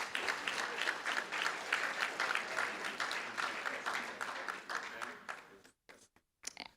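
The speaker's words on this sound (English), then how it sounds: "Let's give them all a round of applause." Sustained applause from the audience at a school district board of trustees meeting, a dense wash of clapping that carries on for several seconds, then thins and fades out.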